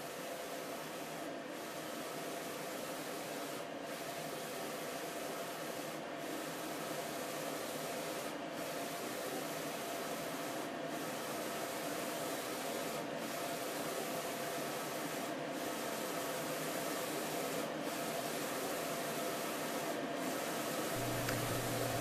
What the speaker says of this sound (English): The print head is going from right to left and then left to right, laying down ink.